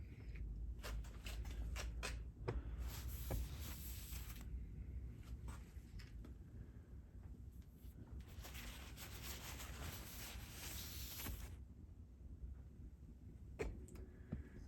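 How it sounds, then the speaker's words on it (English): Steady, dry scraping and rubbing of sandpaper on a resin and wood knife handle, continuous with short pauses and bursts, close up and moderately loud, no talking. "So we're not done, but we are done sanding it."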